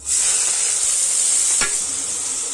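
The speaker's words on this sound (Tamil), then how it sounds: "கூடவே ஆனியனை ஆட் பண்ணிடலாம்." Sliced onion fries in hot oil with cinnamon, cardamom, star anise, bay leaves and cloves in a cooker for meal maker pulao, a steady close sizzle with one quick stir scraping partway through.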